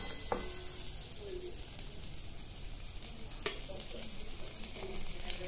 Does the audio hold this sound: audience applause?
no